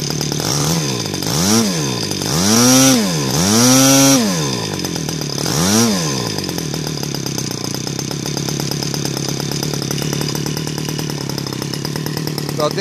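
An Evolution 26GX small two-stroke engine fitted with a CDI ignition and dual magnet buzzes close by, revving up and down in several sharp bursts before settling into a steady, even idle.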